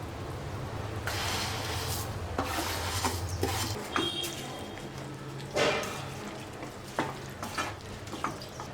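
Vermicelli and cooked vegetables are mixed in a pan for semiya kichadi, with scraping stirs and soft sizzling, a low hum in the background and a few sharper knocks of the utensil against the pan.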